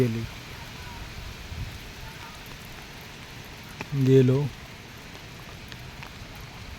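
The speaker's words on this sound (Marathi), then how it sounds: "पाऊस पण बघा एकदम जोसात लागता मित्रांनो" A heavy rain shower patters steadily over paddy fields during traditional Konkan rice planting, a soft, even hiss that stays low in level, broken by one brief spoken word.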